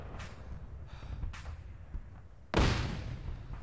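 A heavy boom from artillery or mortar fire in a WWII D-Day airborne video game, one sudden loud blast with a decaying rumble after quieter ambient thuds.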